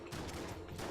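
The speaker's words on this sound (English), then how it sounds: "The airstrike is amazing, but it's got a long reload." Airstrike gun firing in Enter the Gungeon, a dense run of overlapping game explosions and shots that go on steadily for about a second, loud and close with no talking.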